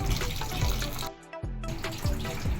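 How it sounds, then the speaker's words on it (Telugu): Water runs from a kitchen tap onto frozen paneer set in a bowl to soak, a steady splashing stream that breaks off briefly midway and then flows again, close and fairly loud. "పన్నీరు ఇదిగోండి ఇది డీప్ ఫ్రిడ్జ్లో పెట్టింది కాబట్టి కొంచెం వాటర్లో వేసి అలాగా నానబెడుతున్నాం"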